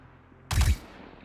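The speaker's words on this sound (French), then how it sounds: "Voilà, 3 coups qui sont partis en même temps." A single short burst of assault rifle fire from the video game Star Citizen, heard as a quick clustered report of about three shots in an otherwise quiet background.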